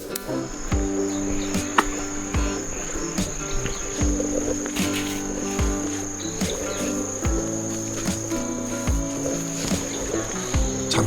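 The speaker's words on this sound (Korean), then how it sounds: "가만히 들어보니 매미와 풀벌레의 노랫소리도 들리네요" Cicadas and grass insects chirp on a forest trail along the Jirisan Dulle-gil, a continuous high steady drone with layered trilling buzzes, and occasional soft footsteps or rustles nearby.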